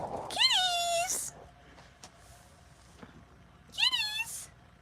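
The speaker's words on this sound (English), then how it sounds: "Let's go see what cats are outside." Outdoor cats meow twice, a few seconds apart. Each call is a clear, drawn-out, rising and falling meow at moderate distance, with quiet rustling and soft clicks in between.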